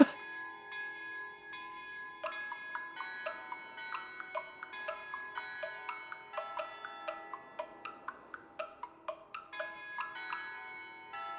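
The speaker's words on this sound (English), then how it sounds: "Get away from these bells? Yes, please. Why is it playing Mary Had a Little Lamb?" Bells chiming Mary Had a Little Lamb in the Shadows Over Loathing video game, a clear, fairly faint sequence of struck bell notes in a steady melodic rhythm, each ringing out over a soft sustained tone.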